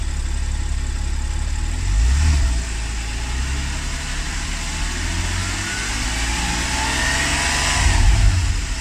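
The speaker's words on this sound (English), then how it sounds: "Sounds beautiful, the engine." Porsche 911 Carrera S Cabriolet engine revving: two strong blips rise over a steady idle, one early and one near the end, heard close and loud with a hiss of background noise.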